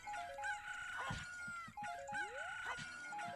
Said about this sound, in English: Oh my god, the chicken sound.